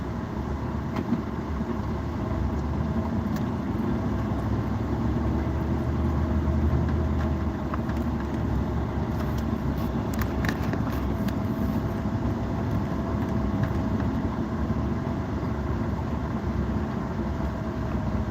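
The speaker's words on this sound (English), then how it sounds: "This truck runs good, but it's old and creaky." An old, creaky pickup truck idles with its air conditioning running, giving a steady, continuous low rumble and hum that holds unchanged throughout, with no talking.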